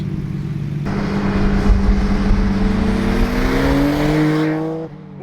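Nissan R32 Skyline GTR with an aftermarket exhaust, heard while driving: a loud, close engine drone rising steadily in pitch under acceleration for several seconds, then cutting off abruptly.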